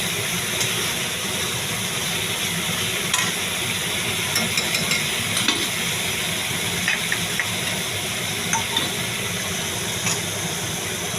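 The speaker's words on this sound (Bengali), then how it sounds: "পেঁয়াজটা একটু ভালো করে ভাজা হবে" Onions fry in a pan for dahi rui, a yogurt-based rohu fish curry, giving a steady, even sizzle with faint scattered crackles throughout and no talking.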